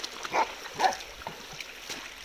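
A dog by the water gives two short, faint yelps in quick succession, then quiet outdoor background follows.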